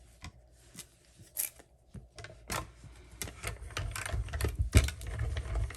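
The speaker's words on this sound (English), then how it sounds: "let's bring in the mini Stampin' and Cutting and Emboss machine, our baby boss. And we're going to die cut this out" A Stampin' Up mini Cut and Emboss machine die cuts paper. Its crank turns in close, uneven clicks and scrapes that thicken into a heavier grinding rumble as the plates roll through.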